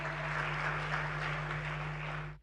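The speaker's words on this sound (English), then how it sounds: "Another round of applause" An audience at the Clean Cooking Forum 2022 opening plenary claps in a steady, even round of applause, fairly quiet and distant in a large hall with a constant low hum underneath, cutting off abruptly at the end.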